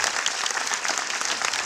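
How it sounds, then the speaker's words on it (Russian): Audience applause at a Russian-language film screening event, a steady dense wash of many hands clapping throughout, fairly loud and close, with no talking over it. "Давайте еще раз бурными аплодисментами поблагодарим."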